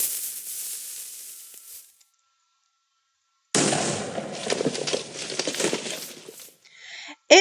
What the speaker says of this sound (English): This is the explosion, I'll just go reasonably far away, of normal TNT.